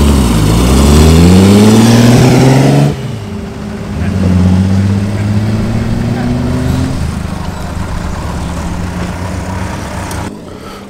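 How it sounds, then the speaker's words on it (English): Vintage Frazer Nash BMW sports car at a classic car rally, engine revving hard up through the gears, then easing off and pulling away, loud and close, with someone talking in the clip. "This Fraser Nash BMW sounds absolutely fantastic."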